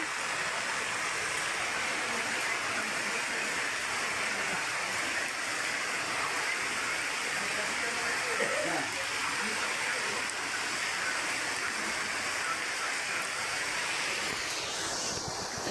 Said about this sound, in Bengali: হঠাৎ কাজকর্ম করতে করতে যে বৃষ্টি শুরু হয়ে গেছে, বৃষ্টি পড়তেছে